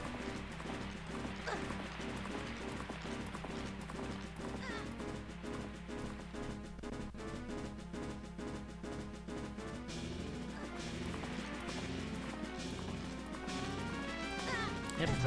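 Horse galloping away in the video game The Legend of Zelda: Majora's Mask, rhythmic clip-clop hoofbeats over game music and effects, steady and moderately loud.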